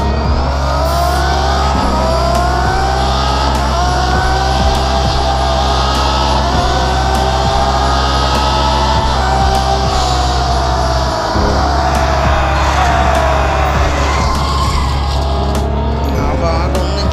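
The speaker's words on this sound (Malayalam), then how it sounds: "നിങ്ങൾക്കാണെങ്കിൽ സൗണ്ട് കേട്ടോ വണ്ടിയുടെ" A Zenvo Aurora supercar engine in the racing game Real Racing 3 roars loud and close in a continuous high-revving drone, with pitch shifting as it accelerates and a brief dip near the middle.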